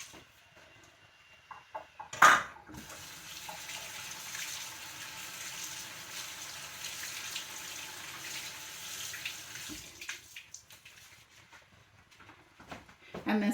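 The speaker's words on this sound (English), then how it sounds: "So let me rinse my beans really quick." Tap water runs steadily into a fine mesh colander while beans are rinsed in a kitchen sink, a continuous close splashing that begins with a clatter and stops near the end, and someone talks over part of it.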